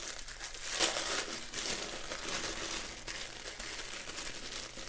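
Tissue paper unwrapped and crinkled on a cluttered craft table, a soft steady rustle with a brighter crackle near the start, heard close up with no talking.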